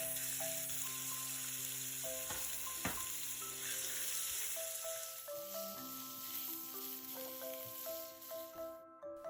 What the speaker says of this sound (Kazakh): Ал енді майды қыздырып, етті қуырып аламыз.